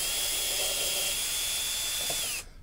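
A power drill drives screws while crash bars are fitted to an MV Agusta motorcycle, giving a steady high-pitched whine that runs for about two seconds and then cuts off abruptly.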